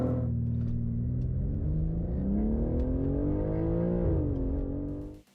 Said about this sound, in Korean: 자, 그럼 잠시 발진 가속 성능 볼까요?